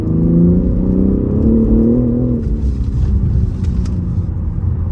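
A 2021 BMW M3 Competition G80 in M1 mode, engine growling loud and close with a steady low rumble and a brief rise in revs before settling, no voices.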